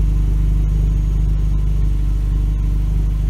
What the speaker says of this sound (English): the budget exhaust sounds good. I'll even let you hear it at idle.